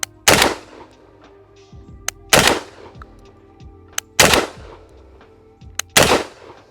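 Browning Auto 5 semi-automatic shotgun at a range fires four loud, sharp blasts spaced about two seconds apart, each followed by the mechanical clack of the action cycling.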